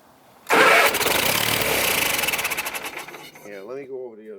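A Kohler Magnum 20hp engine on a 1980s Simplicity Sunstar garden tractor cranks and catches, bursting in loud and close and running rough and pulsing for a few seconds before a voice begins talking over its fading end.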